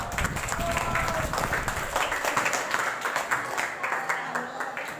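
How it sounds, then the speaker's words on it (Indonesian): Audience at an Indonesian IPM student gathering applauds, a steady wash of clapping over the full length, with crowd chatter and voices mixed in throughout. "Tepuk tangan kita semua."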